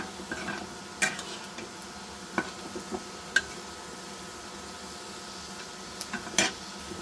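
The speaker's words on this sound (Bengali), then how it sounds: "দিয়ে দিয়েছি তেল, এখানে দিয়ে দিয়েছি রসুন কুচি, পেঁয়াজ কুচি" Chopped garlic and onion frying in oil, a soft, low sizzle beneath sparse clicks and taps of a utensil against the pan, quiet and close with no talking.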